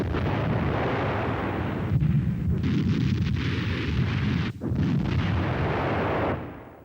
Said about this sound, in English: Support for the Fallschirmjäger is being provided by a battery of 17cm K-18 heavy guns.